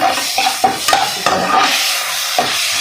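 Ginger garlic paste frying over a medium flame with mint, stirred in a pan, giving a steady sizzle broken by soft, irregular scrapes of the spoon against the cookware.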